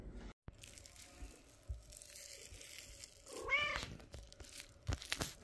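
A kitten meows indoors in a domestic setting, a short clear mew rising in the middle alone, with rustling and crinkling around it.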